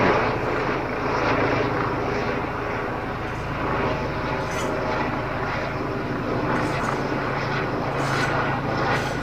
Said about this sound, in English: I'm sure the moment I stop making this video, this helicopter will also disappear.